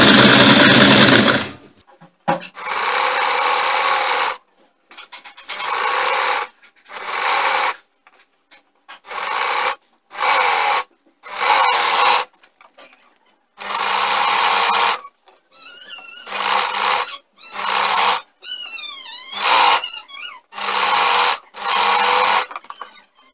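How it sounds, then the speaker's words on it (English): A sewing machine stitches a flare flounce in about a dozen loud, close bursts of steady whirring, each a second or two long, separated by short silent pauses as the fabric is repositioned. "I finished sewing it, I turned it."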